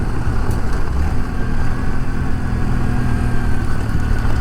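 A Honda Trail CT125 motorcycle engine running steadily while riding a trail in the Great Smoky Mountains National Park, a loud continuous drone with wind rumble and no speech.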